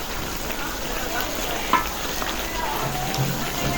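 Country chicken meat sautéing in a pan with ground spice paste gives a steady close sizzle with a few clinks and scrapes of stirring throughout.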